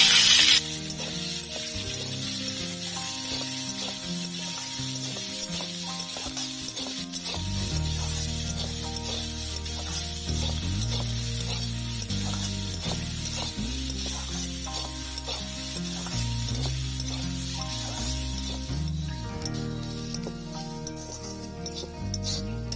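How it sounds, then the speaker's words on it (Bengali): Chopped onions frying in oil in a pan along with cumin seeds and slit green chillies, a steady close sizzle running throughout with stirring scrapes, while a tonal music bed plays underneath. "দিয়ে দেবো পেঁয়াজ কুচি, পেঁয়াজটা ভেজে নেব।"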